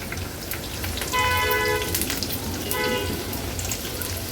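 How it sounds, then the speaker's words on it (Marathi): Onion and green chili hit hot oil in a pan for tempering, giving a steady loud crackling sizzle like rain, with a voice speaking over it in places. "आता फोडणीला आपण कांदा आणि मिरची घालणार आहोत।"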